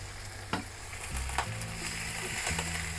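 Mixed vegetables with salt and turmeric being stirred in a hot pan, giving a steady sizzle broken by a few sharp scrapes of the spatula, close and fairly loud with no talk.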